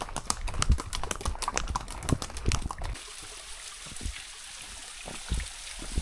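Horse hooves clip-clop on a trail in Salento, Colombia, a fast, close run of sharp knocks for about three seconds before easing into sparser, quieter steps under a faint background hiss.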